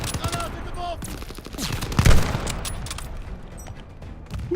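Rapid gunfire from the World War II shooter game Call of Duty: Vanguard crackles in dense bursts, peaking in a heavy volley midway, while a player talks over it.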